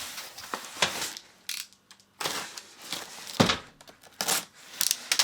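Cheap micro ATX PC case being pulled from its cardboard box, with bursts of cardboard scraping, tearing and crinkling plastic separated by brief pauses, close and fairly loud, no talking.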